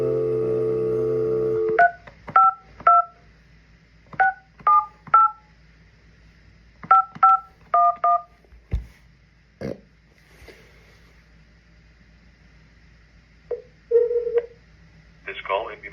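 Touch-tone DTMF dialing beeps from a phone on speakerphone while calling a transmission shop, in quick bursts of paired tones separated by short pauses, a faint dial-tone hum beneath, ending with a brief ringback-like tone.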